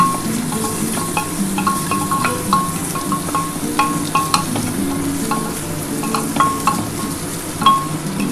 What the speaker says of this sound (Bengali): একটু ডালটা ভাজা ভাজা করে নিই